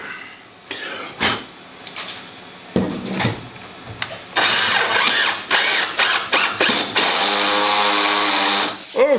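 A power drill drives screws into wood while making hooks for a storage bin organizer, giving a loud, near whirring burst that runs steadily through the latter half after brief knocks and handling noises.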